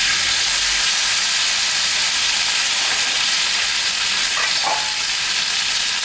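Green chili, ginger and cumin paste frying in a pan, a continuous loud sizzle and hiss with occasional stirring scrapes and no talking.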